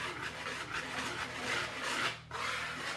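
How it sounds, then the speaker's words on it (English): Cake ingredients are whisked together in a bowl, producing a continuous scratchy swishing with a quick rhythmic pulse, close and moderately quiet, pausing briefly near the end before resuming. "And then we're going to whisk that together,"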